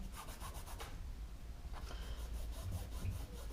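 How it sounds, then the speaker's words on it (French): An eraser rubs pencil grid lines off a portrait drawing, producing soft, close scrubbing strokes in quick rhythmic bursts that carry on throughout at a low level, with no voices. "vous pouvez à présent gommer le quadrillage"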